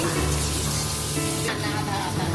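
Taro curry frying in a pan with turmeric, coriander, cumin, chili and ginger powders gives off a steady, close sizzle that holds throughout with little change.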